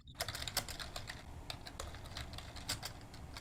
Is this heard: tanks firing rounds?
no